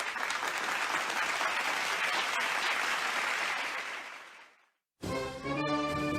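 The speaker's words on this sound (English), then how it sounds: "Now clap and don't stop till I say so." Dense, steady applause from a large crowd fills the first four and a half seconds, then fades out to silence before music with tonal notes starts up.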